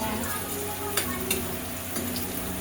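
Pansit noodles stir-frying in a pan give off a steady close sizzle, with a few sharp clinks of utensil stirring breaking through.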